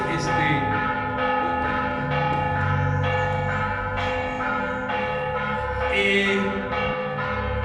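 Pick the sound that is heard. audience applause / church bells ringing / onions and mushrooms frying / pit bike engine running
church bells ringing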